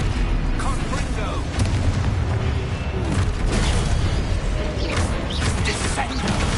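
Explosive blasts of the Confringo spell boom amid constant clattering spell effects and mechanical clanks in the Hogwarts Legacy video game, dense and loud throughout with voices mixed in.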